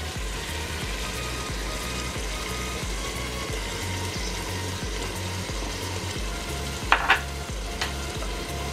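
Chicken and potatoes fry in hot oil in a pressure cooker for pulao, giving a steady close sizzle with stirring scrapes throughout and a couple of sharper clatters near the end, with no talking.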